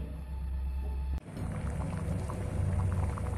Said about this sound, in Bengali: লবণ দিয়ে যে পেঁপে আর আলুটা আমি কেটে রেখেছি এটা একটু সিদ্ধ করে নেব।